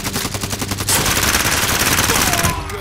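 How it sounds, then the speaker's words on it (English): Loud, rapid automatic gunfire in Call of Duty: Modern Warfare, a fast stuttering burst followed by a dense sustained volley that cuts off near the end, close and harsh. "what the fuck is you shooting, Bear? That shit sound like a laser"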